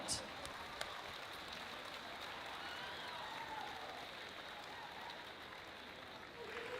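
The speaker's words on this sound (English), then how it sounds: "A round of applause for Jared Vergelt." A distant arena crowd claps for an honoree during a girls' state basketball tournament semifinal. The applause is a faint, even patter that stays steady throughout, with no voices over it.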